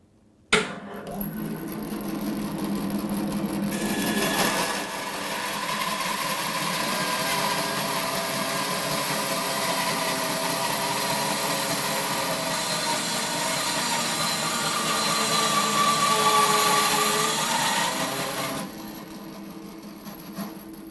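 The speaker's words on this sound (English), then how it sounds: "we've got a piece of 8-inch oak that we're just going to cross cut and with the power of the motor" A Record Power BS350 bandsaw with a 1.5 horsepower motor cross-cuts an 8-inch piece of oak, giving a loud, steady cutting roar that holds for most of the clip before dropping back to the idling machine.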